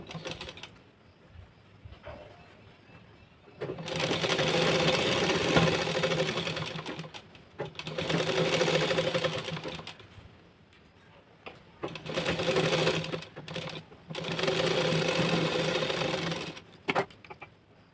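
A sewing machine stitches a lined blouse in four long, even bursts of fast mechanical whirring, close and clear, with brief quiet pauses between runs.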